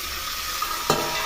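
Two medium tomatoes frying with salt in a pan for a prawn curry, a steady sizzle with a sharp stirring scrape near the end, close and fairly loud, no voices.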